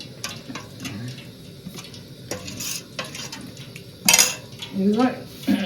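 Urad dal batter for perugu garelu being mixed in a bowl with curd and a little salt, with scraping stirs and clinks of a utensil against the vessel, a sharp metallic clatter midway, and faint background hiss.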